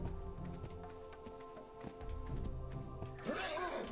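A startled horse neighs in the video game ARK Ragnarok, with a loud whinny rising near the end over hoof clip-clops and steady rain-like ambience.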